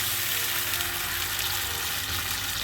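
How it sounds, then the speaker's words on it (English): Beef stock poured into a hot frying pan holding leftover pork chop bits, giving a steady, close broadband sizzle that continues evenly throughout with no talking. "And I'm just going to add my beef stock."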